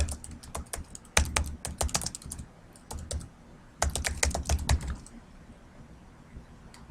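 Bursts of close, crisp typing on a computer keyboard as a heading is entered into a Word table, with quick keystroke clusters separated by short pauses and no voices.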